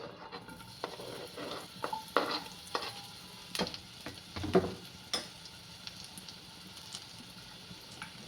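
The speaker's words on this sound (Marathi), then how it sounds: "त्याच्यामध्ये आता आपल्याला पहिला कांदा असा परतून घ्यायचा आहे" Onion sautéing in hot oil in a pan, a faint sizzle under soft scattered stirring and scraping taps, close but quiet.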